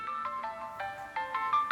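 A mobile phone rings for an incoming call, sounding a bright, repeating melodic ringtone of short tonal bursts that keeps cycling at a steady, fairly close level with no talk over it.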